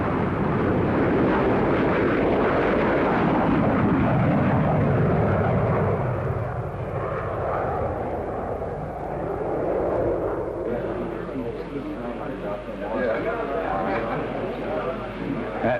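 An early jet aircraft powered by a Whittle jet engine roars in flight, a loud broad rushing drone that swells and then eases slightly, with someone narrating over it.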